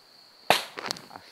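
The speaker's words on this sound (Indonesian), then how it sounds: "Lihat Mas Evi, terdengar suara ledakan kan?" A single sharp explosive crack, like a firecracker, snaps out suddenly and is followed by a few fainter popping bursts, all over a thin steady high tone, with no voices.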